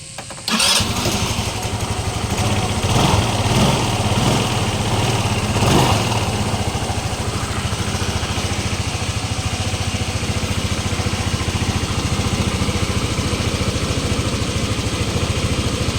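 A motorcycle with a freshly painted exhaust cranks and fires up after a brief silence, then settles into a steady, close, loud idle with a few early throttle blips.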